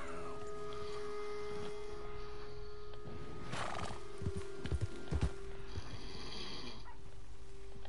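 Horses in a PS4 video game give a few whinnies and snorts over drumming hoofbeats at a gallop, set against a steady tonal game soundtrack hum, with the horse sounds bunched in the middle.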